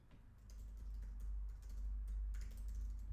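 Computer keyboard typing at a desk, a quick run of soft key clicks over a low steady hum, close and fairly quiet.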